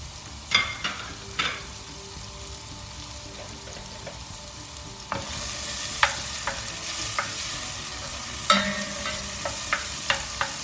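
Ginger, onion and shrimp sauté in butter in a pan, first a quiet sizzle with a few utensil scrapes, then a louder, brighter frying hiss as more goes in, punctuated by repeated stirring clinks.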